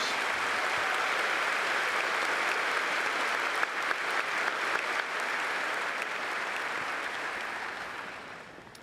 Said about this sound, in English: Let's have a round of applause for these university leaders.